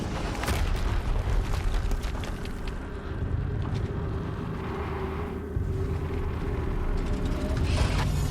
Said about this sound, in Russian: Что за взрыв? Еще один взрыв.